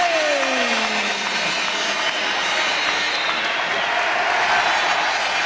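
A large boxing arena crowd roars and applauds as WBC middleweight champion Nigel Benn celebrates, a loud, dense, continuous wash of cheering with a falling tone sweeping through early on.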